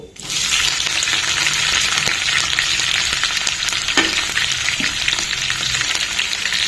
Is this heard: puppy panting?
no